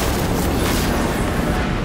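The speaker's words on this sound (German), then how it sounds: "Das explodiert gleich." A loud, sustained roaring explosion blast in Cyberpunk 2077: Phantom Liberty fills the whole clip, dense and rumbling with no pauses.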